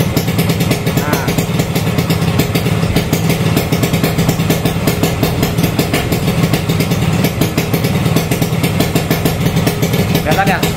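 A motorcycle engine idles close by, a loud steady low rumble with a fast even pulse that runs without a break, while a person talks over it.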